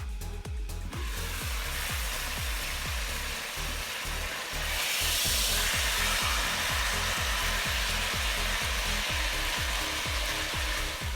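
A venison roast sears hard in a preheated cast iron Dutch oven, giving a loud, steady sizzle with a rapid pulsing crackle that carries through the whole stretch and grows slightly brighter partway in.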